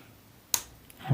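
Bicycle chain link clicking into place while a chain is being fitted, a single sharp snap followed by a faint second tick, just before someone starts talking.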